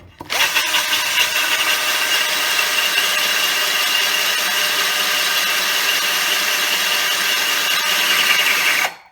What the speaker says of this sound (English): I can hear the note changing there in the drill